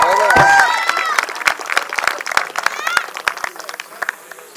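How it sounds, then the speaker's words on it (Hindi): Guests at a sangeet wedding function clap together in a steady, moderately loud burst of applause, with a singing voice and music fading out at the start. "तालियां तालियां।"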